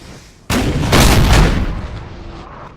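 Loud artillery fire in the Napoleon: Total War 3 battle game, a sudden booming cannon blast followed by a second heavy report and a long rumbling decay with no talk.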